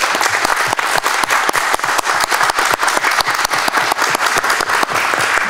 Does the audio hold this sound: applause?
yes